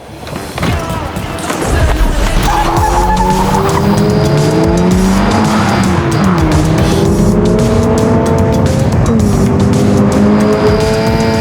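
A 2022 Toyota GR86 sports car is driven hard, its engine loud and close with revs rising and falling. Sustained tire squeal and skidding carry on throughout.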